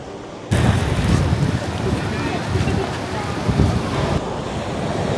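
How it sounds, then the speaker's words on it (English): Strong gusting wind buffets the microphone at La Barceloneta beach in Barcelona, a loud continuous roar mixed with breaking surf that swells and eases across the whole stretch, with no talking. "Quite windy today."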